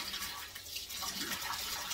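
Warm water runs steadily over a new wig being washed and conditioned, a continuous close hiss and splash with no talking.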